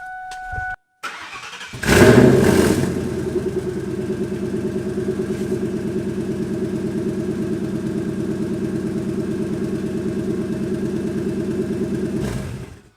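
A turbocharged Ford Mustang is started in a garage after its battery is reconnected. The starter cranks briefly, the engine catches with a loud flare, then settles into a steady, rumbling idle close by.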